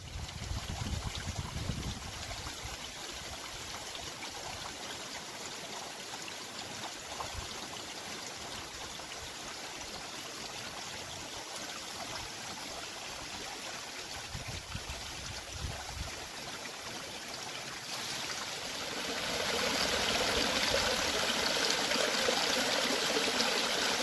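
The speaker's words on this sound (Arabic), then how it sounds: "لتنحدر من أعلى حافة كلسية شاهقة الارتفاع على شكل شلال موسمي جميل" Spring water pouring from a high limestone cliff as a seasonal waterfall near a mountain village in Morocco, a steady rushing stream sound throughout that grows louder and brighter near the end, with no talk.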